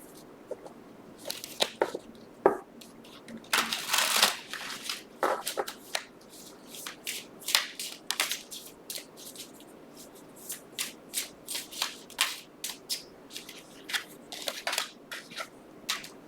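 A deck of cards being shuffled by hand, a series of crisp riffling and snapping bursts close up, irregular and quiet, with no talking.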